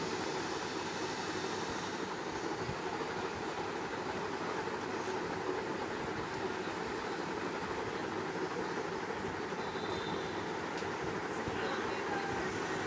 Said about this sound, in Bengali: এটার ভেতর দিয়েই ট্রেন আসা যাওয়া করে।